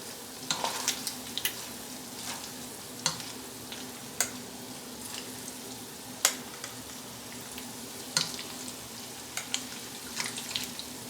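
A thin spoon scrapes grease out of a pot of chili, giving a run of irregular, close scrapes and light metallic clinks against a low steady kitchen background.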